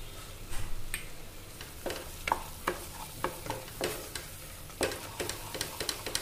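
Kitchen King masala being sautéed in hot oil in a pan for chole, with repeated stirring scrapes and light crackling sizzle in short bursts, close and clear with no talk.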